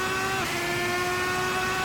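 A wingless Red Bull X2010 race car screams through Ascari in a racing game, its engine holding a high, steady whine with a brief pitch dip as revs shift, loud and close.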